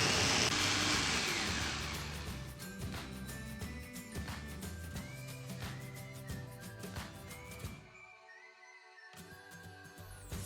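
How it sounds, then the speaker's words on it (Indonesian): A kitchen blender purees sambal ingredients with water and citrus juice, a loud whirring motor roar at first that settles into a steady hum with shifting whine, cutting off briefly before starting again. "Selanjutnya kita blender."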